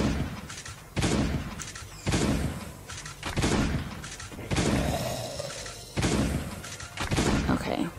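Heavy booming shotgun blasts in the game Last Day on Earth, about one every second, each a loud close thump that rings out and fades before the next shot.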